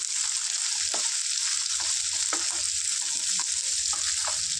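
Ivy gourd frying in a pan with ginger and turmeric makes a steady, hissing sizzle broken by soft scrapes and taps of stirring, heard close and alone without speech.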